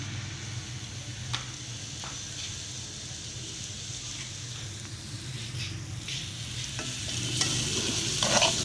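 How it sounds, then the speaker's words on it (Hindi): Onion fries in ghee in an unwashed kadhai still coated with spices, giving a steady sizzle with repeated stirring scrapes that grow louder toward the end. "इसी घी में आप प्याज को फ्राई कर लें"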